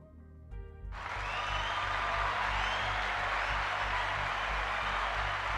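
Dense applause from a crowd, starting abruptly after a short musical tone and continuing as a steady, loud wash of clapping.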